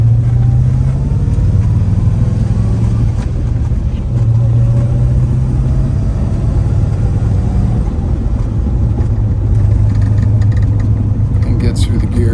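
An original 1974 De Tomaso Pantera barn find cruises slowly around the block. Its engine gives a steady loud low drone that dips and rises as it shifts gears, and someone talks over it.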